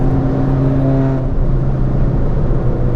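Loud Ford Fiesta ST engine droning close up, a steady humming tone that drops in pitch partway through as the revs ease.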